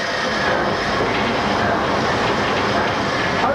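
A steam locomotive being shifted into its final position inside a railway museum, giving a steady, loud, broadband rumble and hiss that holds throughout, with no clear individual beats.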